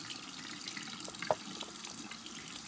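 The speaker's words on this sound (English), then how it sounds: "So the water's running, and then I'll just place it like this until all the soap is gone." Tap water runs steadily over a makeup brush cleaner in a sink, a soft continuous close stream with one small clunk partway through, no talking.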